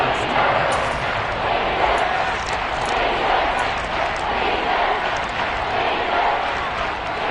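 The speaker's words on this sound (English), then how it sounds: "Crowd getting in it a bit already." Stadium crowd noise in a football video game forms a steady, loud roar throughout, with a commentator's voice over it.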